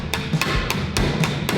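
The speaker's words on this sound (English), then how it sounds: "Out comes the hammer." Hammer blows flattening a bent metal tank protection panel from a wrecked Ferrari 296 in a workshop, five sharp evenly spaced strikes over a steady background hum, close and loud.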